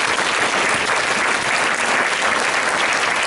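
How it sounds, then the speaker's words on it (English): Full, loud applause from a conference crowd, dense and unbroken from start to finish with no speech over it. "I just would like to give one big round of applause for our friends at the Idaho chapter"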